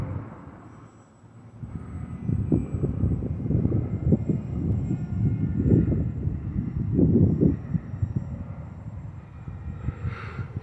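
An airplane circles around to line up for landing in a north wind, giving a low, rumbling engine drone that swells and fades at moderate distance with no voices.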